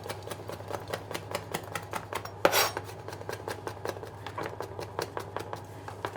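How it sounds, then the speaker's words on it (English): A knife chops fresh herbs finely on a cutting board in quick, rhythmic taps, each a crisp close click repeating steadily at a brisk pace, with one louder knock partway through. "just chop them very finely using the claw method"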